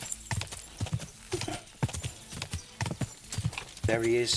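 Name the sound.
horse galloping in video game Kingdom Come: Deliverance 2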